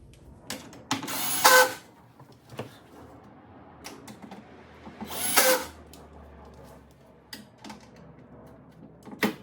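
Power drill tightening screws on a Toyota Tacoma third-generation bed rail, short bursts of whirring with two longer loud runs, separated by quiet gaps and small clicks.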